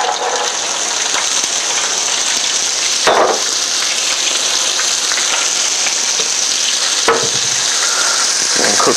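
Bean sprouts crackle and hiss steadily in hot oil for a chicken stir-fry, a loud, continuous sizzle with a couple of brief stirring scrapes, close by and without speech.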